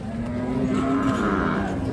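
A small four-tooth-age Holstein Friesian dairy cow on a farm gives one long, droning moo that holds steady at a fairly close distance.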